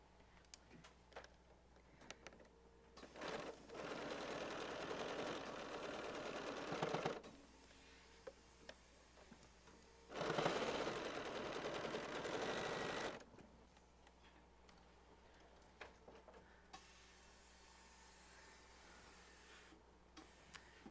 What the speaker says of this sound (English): I'm going to sew a little bit more because I don't really quite have the points there.